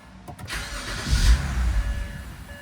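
BMW E90 330xi with a vacuum leak past the MAF cranking and catching, then settling into a rough, close idle after a brief rise in revs.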